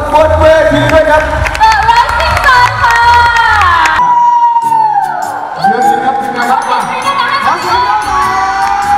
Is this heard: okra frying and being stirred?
no